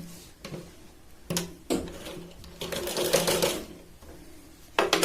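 A sewing machine stitches blouse fabric in quick bursts of rapid mechanical whirring, separated by short pauses, close and moderately loud.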